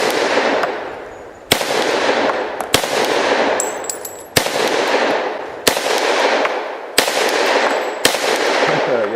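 A Thompson M1A1 SBR fires six or seven loud, sustained automatic bursts at an outdoor range, each ending abruptly with a short pause before the next, with no talking.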